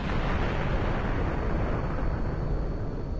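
An explosive from the Voltz mod in Minecraft detonates, giving a continuous, loud, broad roaring rumble that fills the whole moment with no gaps and no voices.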